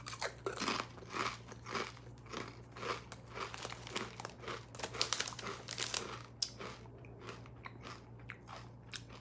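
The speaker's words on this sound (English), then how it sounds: "Very hefty, crunchy chip." Crunching into a thick, heavily bubbled Zapps kettle-cooked potato chip, with sharp repeated bites and brittle chewing crackles up close, no voice.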